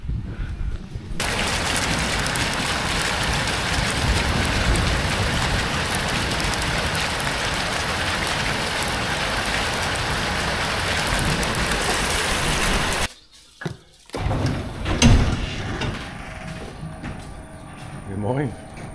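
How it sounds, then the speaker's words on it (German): Steady, dense rain pours down outdoors, a loud continuous hiss that cuts off abruptly near the end, followed by a few scattered knocks and faint noises. "Geh rein, es regnet."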